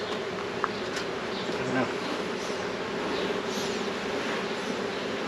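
Honey bees buzz around a hive in a dense, steady drone that carries through the whole stretch, with a brief mumbled voice partway through.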